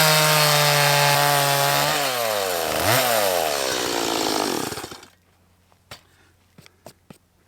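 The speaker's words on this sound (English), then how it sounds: "We'll cut it off with the chainsaw." A gas chainsaw cuts through a log during farm fence building, loud and close, its engine pitch sagging and rising under load before abruptly shutting off, followed by a few faint knocks.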